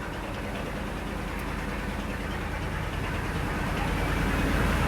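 A boat engine drones steadily out on open water against strong wind, current and big waves, a loud, unbroken low rumble with no voices over it.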